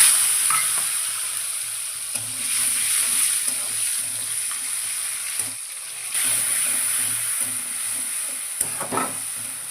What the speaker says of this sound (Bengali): ওই তেলে দিয়ে দেব গোটা শুকনো লঙ্কা, একটা তেজপাতা, একটু জিরে দিয়ে দেব